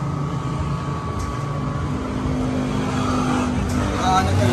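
Steady low exhaust drone from a car fitted with a custom-made stainless 304 mid pipe, rising slightly in level toward the end, with people talking over it.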